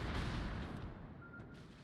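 Naval gunfire from a Kleber destroyer in World of Warships, a loud booming salvo rolling and fading over a couple of seconds with no talk.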